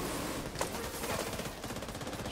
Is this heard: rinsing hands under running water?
no